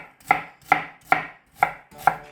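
A knife chops a small onion on a cutting board while preparing ingredients for sweet potato stem kimchi, five sharp, evenly spaced chops close up with no talking.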